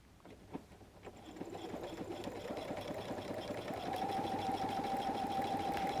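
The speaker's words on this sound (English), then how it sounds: "I'm going to use a triple zigzag stitch." A sewing machine runs a triple zigzag stitch on a messenger bag, a steady rapid mechanical clatter that builds gradually and holds at a close, moderate level.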